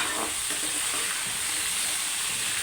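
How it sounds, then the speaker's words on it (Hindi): Chicken pieces fry with chopped onions in a karahi, a steady close sizzle with broad hiss and faint scraping of a stirring spoon throughout, no voices. "अब चिकन को अच्छे से पकाएं जब तक इसका कलर वाइट ना हो जाए।"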